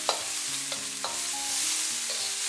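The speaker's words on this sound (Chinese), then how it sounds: "然后把葱姜蒜给它倒进来，继续开小火给它煸香" Scallion, ginger and garlic stir-fried over low heat in a wok with browned pork belly, giving a soft continuous sizzle with several distinct scraping strokes of the spatula, heard close and without talk.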